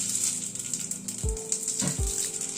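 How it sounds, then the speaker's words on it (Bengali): Half a spoon of radhuni seeds sizzles in hot oil in a pan, a steady close hiss broken by a few low knocks and a brief spurt of crackling. "তেলে প্রথমে 1/2 চামচ রাঁধুনি ফোড়ন দিলাম।"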